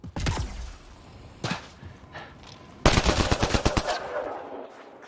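Gunfire in the game Mass Effect Andromeda: a short burst, a few isolated shots, then a loud rapid automatic stream, close and sharp with no talk over it.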